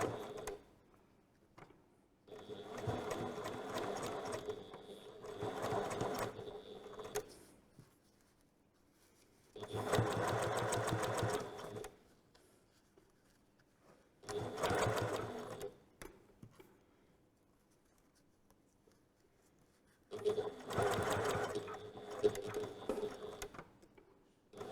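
A sewing machine stitches a seam one centimetre from the fabric edge while a garment's waist is let out: four steady bursts of close, even stitching, separated by short quiet pauses, with no talk.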